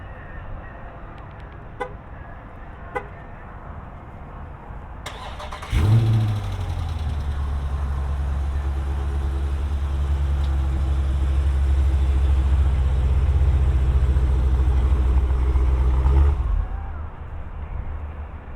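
A 2019 Dodge Challenger T/A with the 392 V8 starts after a few clicks, settles into a deep, loud idle rumble for about ten seconds, then abruptly cuts off into silence.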